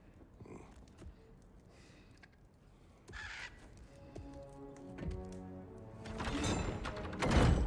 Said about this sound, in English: Yeah, those are Odin's two birds.